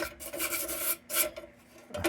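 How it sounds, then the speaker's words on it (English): Bench grinder stripping paint from an antique 1923 Dietz D-Lite lantern, heard as close, harsh rasping bursts of abrasive contact separated by short gaps. "So let's take this over the bench grinder."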